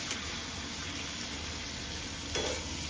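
Bitter gourd vadas fry in a covered pan over lowered heat, giving a steady dense sizzle that holds even throughout, with a brief louder crackle near the end and no talking.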